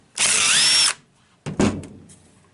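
A power driver whirs close up in one short burst to back out the hidden center screw on a Zenith carburetor top from a Mercedes-Benz W108 or W114, followed by a briefer, rougher second burst.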